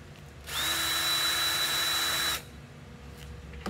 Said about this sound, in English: Let me get this screw off.